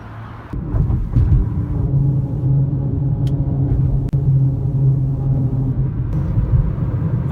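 A car cruising north on US 1 just south of Belfast, Maine, heard from inside as a steady, loud low rumble of engine and road noise that holds without a break, with no talking.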